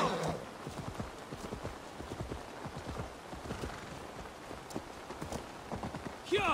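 A horse gallops in the Assassin's Creed Valhalla video game, a steady run of rhythmic hoofbeats at moderate distance under faint rain-like hiss, with a brief neigh or whinny at the very start and end.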